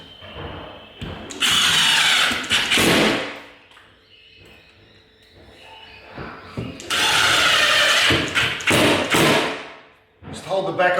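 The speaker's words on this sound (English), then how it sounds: "take our piece of timber, slide it in behind, and we're going to secure this with screws" A power drill drives screws into a piece of timber behind a damaged wall or ceiling being repaired, loud whirring bursts around two seconds long separated by quieter pauses with faint knocks.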